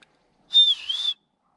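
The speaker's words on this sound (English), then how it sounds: "So I have to keep whistling so he can find me." A single person's whistle rings out alone against silence, one clear sustained tone about half a second long that dips and rises in pitch, called out to draw an animal back through thick grass in a rural mountain village.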